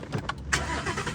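A car engine cranks briefly with a couple of quick starter bursts, then catches and settles into a steady low running note, all close by within about a second.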